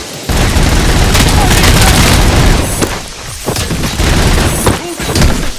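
Gunfire in the RoboCop 2 video game: loud, sustained bursts of shots and booms in a dense barrage with brief lulls, under shouted voices.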